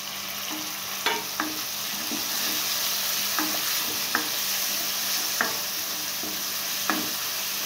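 Tomato and curry leaves sautéing in a pan make a continuous sizzle, with irregular clinks and scrapes as a spoon stirs them.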